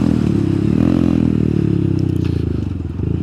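A Honda Monkey motorcycle idles and putters close by as it pulls in at a farm, a loud, steady low engine thrum with a fast pulsing rhythm and slight rises in pitch.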